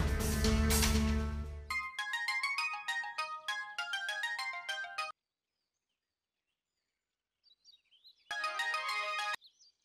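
A phone ringtone plays a bright repeating melodic chime in short bursts, stopping for a few seconds of near silence before ringing again, with no talking over it.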